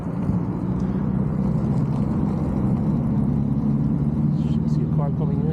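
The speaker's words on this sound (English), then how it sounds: "I see a car coming in." A car approaches across a wet paved area, heard as a low, continuous engine rumble that stays steady beneath someone talking nearby.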